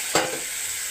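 Broth poured into spices frying in a pan for a tangra fish curry, giving one sudden loud hiss and splash that fades into a steady sizzle.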